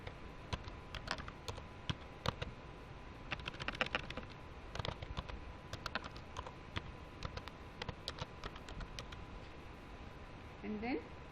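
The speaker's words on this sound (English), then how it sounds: "now I will type the password." Password typed on a computer keyboard: a steady run of close, crisp key clicks at an uneven pace lasting about ten seconds, alone without talk.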